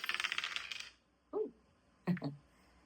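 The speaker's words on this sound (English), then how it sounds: "let us roll the dice for the entirety of Gemini season" Two dice rattle in a shaker or cupped hands for about a second, then tumble onto a hard surface in two sharp, close clattering bursts with a short quiet gap between, heard alone without speech.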